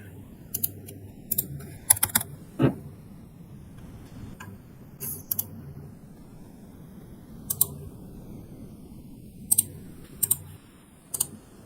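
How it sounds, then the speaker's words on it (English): Typing on a computer keyboard at a desk, with scattered bursts of close key clicks separated by pauses over a low room hum, and no talking. "wait for a moment, I will type for you"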